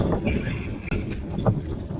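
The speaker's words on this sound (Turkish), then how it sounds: "Aşırı bir rüzgar var." Strong wind on Cunda Island buffets the microphone in steady low rumbling gusts, with a brief dropout near the middle.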